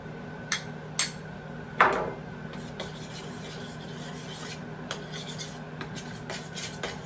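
Flour being stirred into melted butter in a pan for a roux, with soft scraping and rasping of a utensil against the pan, a few sharper taps early on, then a quiet continuous rub.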